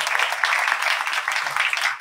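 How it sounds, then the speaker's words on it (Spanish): An audience at a book presentation applauds, steady clapping that carries on for a couple of seconds at moderate loudness without a pause. "por lo cual pido un aplauso"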